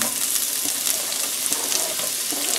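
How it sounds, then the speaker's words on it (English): One small onion fries in a tablespoon each of butter and olive oil, making a loud, close, continuous crackling sizzle with light stirring. "about a tablespoon of butter, just about a tablespoon of olive oil in there. And in goes, I'm going to put my onions in first"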